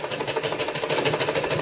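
A sewing machine stitches a blouse in a quick, rhythmic run of needle pulses, close and moderately loud, with a steady mechanical whir and no speech.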